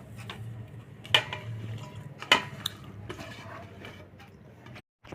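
Chopped coriander, onion and green chilli being mixed into cauliflower in a bowl, giving soft scraping and stirring with two sharper clinks near the start, fairly close and quiet, with no talking.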